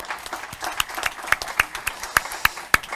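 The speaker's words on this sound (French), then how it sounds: "Vous pouvez les applaudir parce que franchement, ils ont été sympas" Audience at a conference in Senegal claps, a short burst of scattered, fairly close hand claps building into applause.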